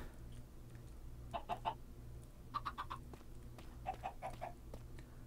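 Chickens in a Minecraft-style video game give three quick bursts of clucking, each a cluster of three or four short clucks spaced about a second apart, faint over a low droning background.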